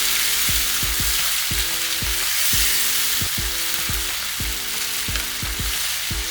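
Chicken frying in a pan over a full flame as tomato puree goes in, for chicken pasta: a loud, steady sizzle with repeated stirring knocks and scrapes.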